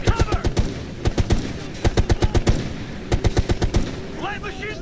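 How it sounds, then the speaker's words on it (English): Bursts of light machine gun fire crackle through a multiplayer video game, several rapid strings of shots separated by brief pauses, loud and close, with faint game effects near the end. "Light machine gun, watch it."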